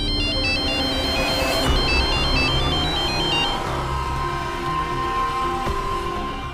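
A phone ringtone plays a bright repeating electronic melody for a few seconds, then cuts off abruptly as the call is hung up, leaving the room's background sound.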